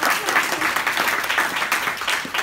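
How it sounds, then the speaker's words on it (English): A crowd at a Halloween costume contest claps steadily, a dense even wash of applause, fairly loud and close, without any voice. "Now, firstly, everybody's done a good job, so everybody needs a little clap."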